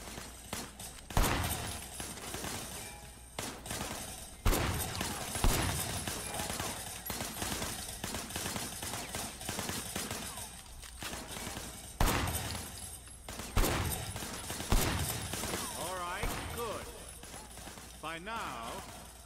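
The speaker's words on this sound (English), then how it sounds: "I want you to put some bullets in a few things" Gunfire from the video game Sleeping Dogs: repeated bursts of shots and heavier reports at irregular intervals over a busy game soundscape, with talking mixed in.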